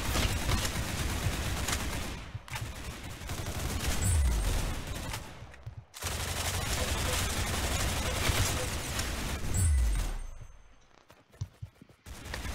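Sustained bursts of AK-74 rifle gunfire in a dense, continuous fusillade with overlapping shots, loud and close, broken by a brief pause and then resuming before tapering into scattered individual shots.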